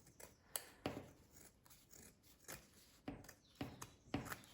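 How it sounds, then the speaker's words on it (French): Scissors snip through fabric while a protective face mask is being made, with a quiet, close series of short, crisp cuts at an uneven pace and no talking. "Je coupe ici pour faire quelque chose de plus propre."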